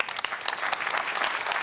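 Audience applause fills a public forum hall at NATO's 2023 Public Forum, a steady, dense wash of many hands clapping at moderate distance with no voices over it.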